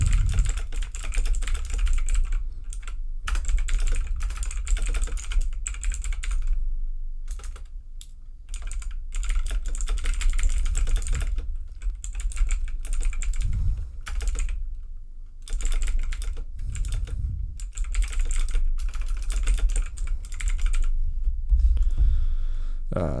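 Typing on a computer keyboard, with steady bursts of clicking keystrokes broken by short pauses, close and fairly loud throughout, with occasional brief speech.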